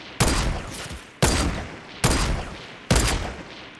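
Four loud, sharp sniper rifle shots ring out in PUBG Mobile, spaced roughly a second apart, each a sudden blast that tails off into a short echo.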